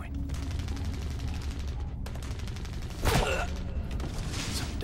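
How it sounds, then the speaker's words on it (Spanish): Gunfire in the video game Resident Evil 0 HD Remaster, a sharp burst of shots around the middle cutting through a dense, rumbling game soundscape, with scattered crackling reports before and after. "Parecen disparos efectuados desde a saber dónde"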